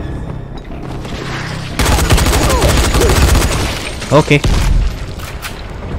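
Loud bursts of gunfire and grenade explosions in the video game Dying Light fill most of the stretch, with a brief spoken word near the start.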